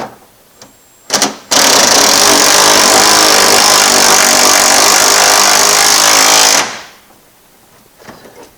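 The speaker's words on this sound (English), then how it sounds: "We got a nut driver. See what we can do. Let her rip." A power nut driver spinning on a bolt of a 1955 car in a garage, a short burst followed by a loud steady whirring run of about five seconds that then winds down, with quiet clicks before and after.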